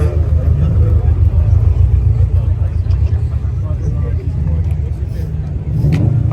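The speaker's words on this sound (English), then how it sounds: "See the other B58 Supra coming through as well." B58 Toyota Supra driving past at a cars and coffee meet, a loud low engine rumble close by across the whole stretch, with people talking over it.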